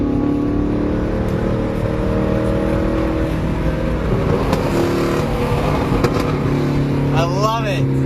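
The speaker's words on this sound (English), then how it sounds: "This is what it sounds like next to a car." Loud car engine heard from close by, a sustained harmonic drone that climbs and falls in pitch, with a rising rev sweep near the end; voices talk over it.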